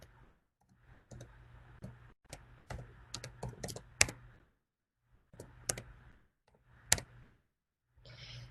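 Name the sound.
computer keyboard typing and mouse clicking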